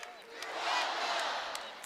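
A large crowd chants and roars inside Rec Hall, Penn State's arena, during a Big Ten volleyball match against USC, a broad reverberant wash of massed voices swelling and holding steady across the clip.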